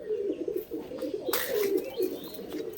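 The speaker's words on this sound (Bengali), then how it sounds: "ঘরে ঢোকার জন্য কীরকম অস্থির হয়ে পড়েছে দেখুন পায়রাটা" A pigeon that is restless to get into a house coos close by in repeated low phrases, joined by a brief flutter of wings and faint chirps.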